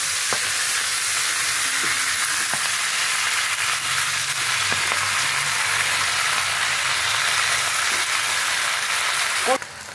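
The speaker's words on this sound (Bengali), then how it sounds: "পুঁই শাকটা ওই কড়াইয়ের মধ্যে সবটা দিয়ে দেবো, সব সবজি সমেত শাকটা আমি কড়াইতে দিয়ে দেবো" Malabar spinach and mixed vegetables fry in a hot wok with a loud, steady hiss and crackle that fills the whole stretch, with a few scrapes of stirring and a brief clatter at the very end.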